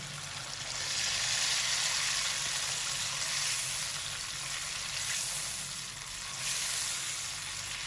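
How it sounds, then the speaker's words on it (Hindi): Tomato puree sizzles in hot oil for an Afghani chicken karahi, a steady, close, dense frying hiss that swells slightly and holds for several seconds with no talk. "अब इस स्टेज पर हम इसमें शामिल कर देंगे जो हमने टमाटर की प्यूरी बनाई थी"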